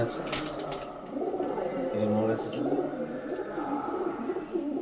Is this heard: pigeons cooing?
yes